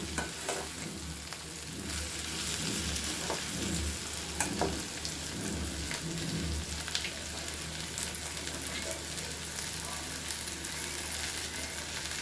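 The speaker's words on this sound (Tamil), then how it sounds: "எண்ணெயிலேயே வெந்து வந்திருக்கு கத்திரிக்காய்" Brinjal pieces fry in hot oil for a poriyal, sizzling loudly and continuously close by, with occasional scrape and clatter of stirring and no speech.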